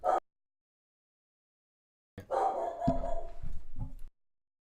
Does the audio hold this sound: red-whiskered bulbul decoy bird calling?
no